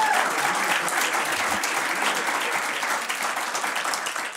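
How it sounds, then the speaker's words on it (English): Audience at a Missouri Attorney General candidate forum breaks into steady, sustained applause, a dense wash of many hands clapping at full volume throughout with no talk over it. "A rousing round of applause for both of these guys."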